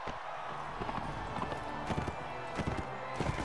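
Horse hooves clip-clop at a gallop in the Mount and Blade Warband video game, rhythmic thuds over a steady tournament din with a brief whinny.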